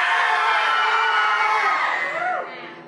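An audience at a horror makeup show in Universal Studios Florida lets out a loud, sustained group scream on cue, tapering off near the end.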